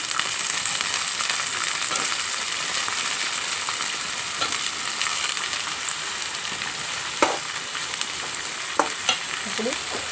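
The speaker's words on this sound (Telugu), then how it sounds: "పెట్టుకున్న వంకాయ ముక్కలు వేస్తున్నాను చూడండి." Eggplant pieces fry in a hot pan with a steady, close sizzle and crackle throughout, with a few faint scrapes of stirring and no talking.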